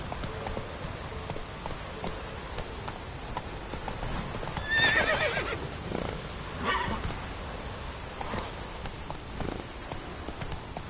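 Roach, a horse in a PS4 video game, trotting with steady clip-clopping hooves and letting out a loud whinny midway, over a rain-like background hiss.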